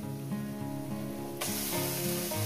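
Spices hitting a pan of fried onions, a bright steady sizzle that swells suddenly louder partway through, with a droning tone running underneath.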